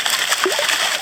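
A shovelful of river gravel tipped into a sieve in a Tasmanian creek, landing with a short wet splash and slosh of water, brief and close.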